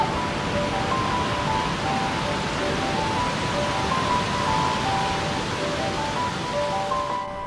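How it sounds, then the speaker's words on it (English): Waterfall at Crater Lake National Park, a dense, even roar of rushing water that stays constant and fills the whole stretch. "Cloud and Solar were pretty nervous about the noise of the waterfall"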